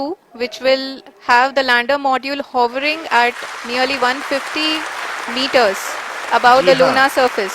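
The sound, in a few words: applause from scientists at ISRO mission control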